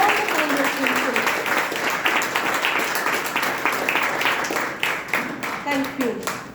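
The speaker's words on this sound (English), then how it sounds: "Shall we have an immense gratitude of applause to all the foundation pillars?" A Toastmasters club audience at a milestone meeting claps for its founding members, a sustained round of applause with individual claps standing out, while a voice talks over it in places.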